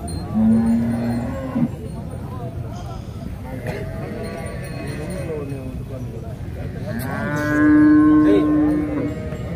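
Holstein Friesian cattle at a weekly livestock market lowing, with two long, loud moos standing out near the start and end over a busy background of people talking and other animals.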